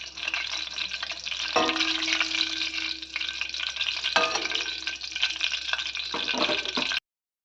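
Brinjals fry in hot oil in a pan with a close, dense, continuous sizzle, and a utensil occasionally stirs or scrapes the pan, then the sound cuts off abruptly.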